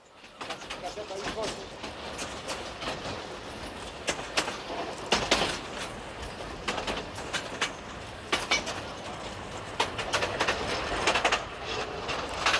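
A narrow gauge train in Poland rumbles past with irregular clanks and rail clicks, some sharper metallic knocks standing out over a steady rolling noise.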